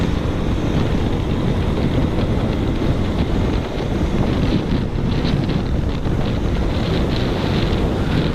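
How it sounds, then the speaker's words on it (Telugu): Strong, steady wind roars into the microphone as a KTM motorcycle rides along a highway, a loud, constant buffeting rush that fills the whole stretch with no break and no voices. "గాలి అయితే ఫుల్గా వస్తుంది"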